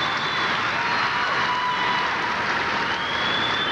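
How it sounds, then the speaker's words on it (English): Crowd applause at a 1989 US gymnastics challenge match, a steady wash of clapping and murmuring spectators that stays even and moderately loud throughout. "Some interesting applause from the crowd."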